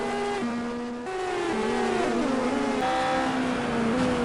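Two McLaren race cars run wheel to wheel in the Monoposto racing game, their engines whining as they rise and fall in pitch through gear changes, close and continuous.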